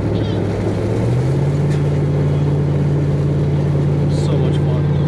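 A Ford SVT Raptor truck drives off-road along dirt roads, its engine a steady loud drone that rises slightly in pitch early on and then holds, with rough road noise underneath.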